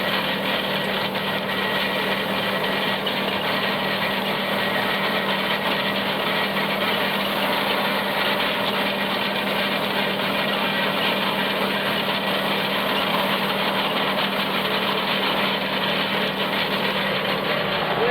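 A hay tedder works a mown hayfield with its engine running, giving a loud, steady, unbroken mechanical drone and rattle that never lets up.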